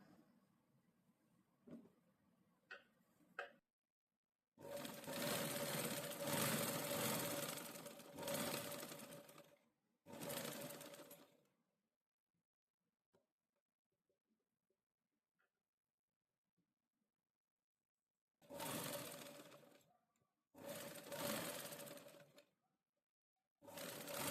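A sewing machine stitches fabric in several bursts of a few seconds each, separated by near-silent gaps, with light handling clicks at the start.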